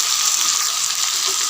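Chicken and bhindi (okra) frying in a pan while being stirred, a steady bright sizzle that holds loud and even throughout, with no talking.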